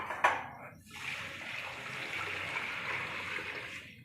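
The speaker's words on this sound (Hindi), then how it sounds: "तो इसके बाद मेरे पास अब इसमें पानी हम ऐड करेंगे।" Water pouring into a pot of soaked rice for matar pulao, about five cups over three of rice, starting after a brief clink and running as a steady, close rush.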